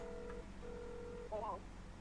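Phone dialing tones in the video game Dave the Diver: a few short steady beeps, then a brief warbling tone, faint under a low background hum.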